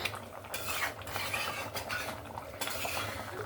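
Fish pieces are stirred into a simmering thin fish curry gravy in a pot, giving continuous scraping and sloshing with a few sharper utensil knocks, close and steady.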